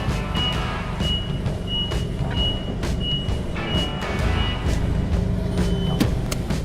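A forklift in reverse gives a steady run of evenly spaced electronic beeps, roughly two per second, over a constant low rumble of engine and shop noise.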